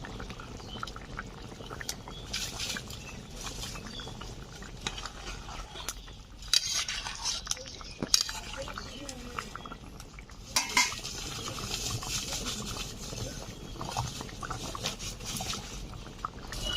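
Spice paste being stirred into a village-style rohu fish curry in a pot: soft scraping and clinking of a spoon against the metal pot, with faint sizzling and bubbling throughout.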